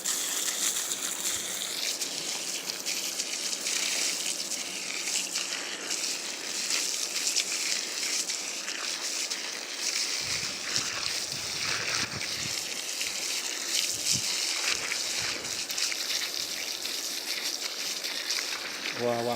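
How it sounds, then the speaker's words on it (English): Water runs steadily for washing feet at a barn-style shed being turned into a tiny house, a constant close splashing rush with some sloshing changes partway through. Someone talks over it at times. "I'm gonna run the water over there"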